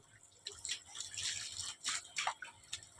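Pond filter cotton is rinsed in water, giving soft irregular splashes, drips and sloshing close by in uneven bursts, with no voices.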